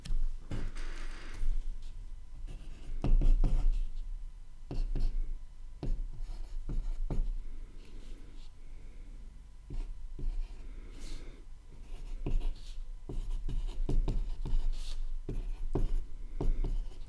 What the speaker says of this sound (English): I'm just going to be writing down all of these really quick.